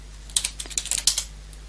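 Quick bursts of keystrokes on a computer keyboard typing a command into a Kali Linux terminal, about a dozen crisp close clicks in a rapid uneven rhythm over a faint steady hum.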